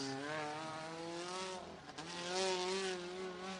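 A USAC midget race car at Santa Maria Speedway, a dirt oval, screams down the back straight into turns three and four, a loud, sustained high-revving engine whine that dips briefly and climbs again.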